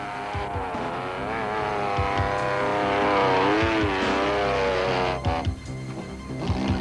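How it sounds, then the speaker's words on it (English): An off-road race car in the 1992 Baberspan 500 revs hard while climbing out of mud, its engine note rising and falling in sweeping surges, close by and loud, then easing off near the end. "Here the Natal car finally gets going and surges towards terra firma."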